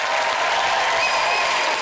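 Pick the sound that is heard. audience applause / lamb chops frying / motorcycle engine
audience applause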